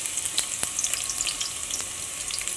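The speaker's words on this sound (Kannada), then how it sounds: "ಈಗ ಈರುಳ್ಳಿ ಹಾಕ್ತಾ ಇದ್ದೀನಿ. ಈರುಳ್ಳಿ ಫ್ರೈ ಆಗಲಿ." Onions frying in plenty of oil for a mackerel sambar, a bright, crackling sizzle with sharp spatters popping irregularly, close up and steady, with no talk.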